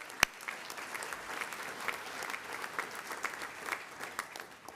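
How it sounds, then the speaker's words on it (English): An audience applauds at a Band of Brothers 25th anniversary symposium held at a museum. The clapping is steady and moderately loud, with one sharp clap near the start, and it runs for about five seconds with no talking. "let's give all of them a round of applause for their support"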